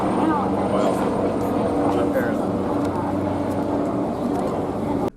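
A medical or fire helicopter circles overhead, its steady, loud rotor and engine rumble filling the whole stretch while someone talks over it.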